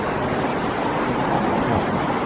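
Water rushes beneath a bridge, a steady broadband wash with a gusty, windy edge, constant and fairly close, with no voices.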